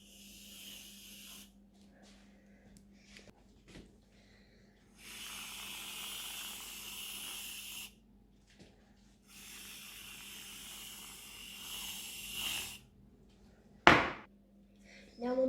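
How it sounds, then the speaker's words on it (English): Squirty whipped cream sprayed from a shaken can onto a chocolate milkshake, heard as several hissing bursts of a few seconds each with quiet pauses between, and a sharp knock near the end. "get your squirty cream, shake it, open it up"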